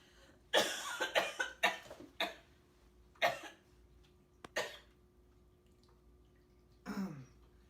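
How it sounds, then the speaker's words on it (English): A person coughing in a quiet room, a rapid burst of several harsh coughs followed by a few more separate coughs and a final throat-clearing cough, close and fairly loud. "coughing"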